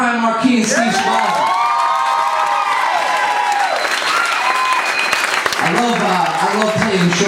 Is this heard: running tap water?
no